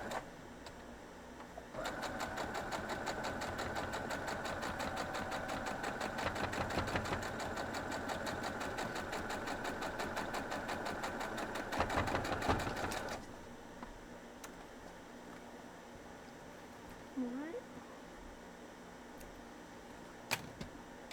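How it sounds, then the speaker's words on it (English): A sewing machine stitches quilt block pieces in a fast, steady mechanical whir for about eleven seconds, then stops, leaving quieter handling noises and a few faint clicks. "let's go sew this"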